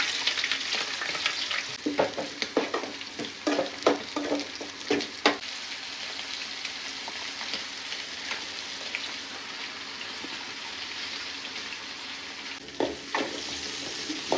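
Chopped onions and green chillies frying in several spoonfuls of hot oil, a loud continuous sizzle with bursts of spatula stirring and clinks, close up and without talk.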